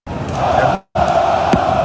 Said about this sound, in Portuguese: mais um show da nossa torcida ontem em São Januário